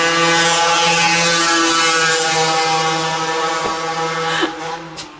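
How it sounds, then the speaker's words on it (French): A motorcycle engine drones steadily with a strong harmonic buzz as it passes close by outdoors on a cold day, holding loud and even before dropping away near the end. "Merci la moto qui passe."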